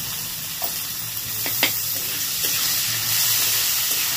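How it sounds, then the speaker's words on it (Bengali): Soaked chana dal, drained of water, sizzles steadily as it fries in a pan, a continuous close hiss with a few brief stirring clicks and scrapes, no voices. "এবার এটাকে ভালো করে আগে ভেজে নেবো ডালটাকে।"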